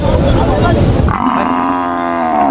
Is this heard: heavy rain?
no